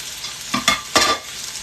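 Pork chops hit hot oil in a frying pan with a few sharp crackling sizzle bursts over a soft frying hiss, close and loud, with no one talking.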